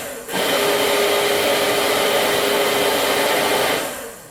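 A cab heater blower fan in a turbocharged Ford Ranger in snowy weather pushes air in a steady loud whoosh that starts abruptly, holds for several seconds, then tapers off, close with no talking.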